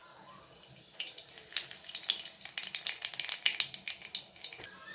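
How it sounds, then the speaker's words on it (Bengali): Black cumin seeds dropped into hot oil in a kadai crackle and pop in a dense, quick run of small bursts over a low steady hiss. "তেল গরম হয়ে গেছে আমি এবার কালো জিরে দিয়ে দেবো"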